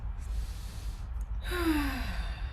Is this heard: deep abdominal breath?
yes